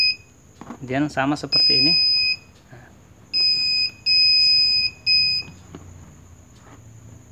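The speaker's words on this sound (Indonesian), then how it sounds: "ketika kita masukkan dia akan bunyi bip panjang" A universal car parking sensor with a display monitor gives a steady high electronic beep in repeated long tones, each about a second, after a short stretch of talk in Indonesian at the start.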